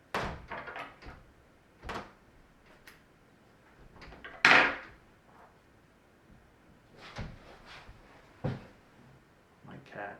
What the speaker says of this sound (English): I got the doors closed here.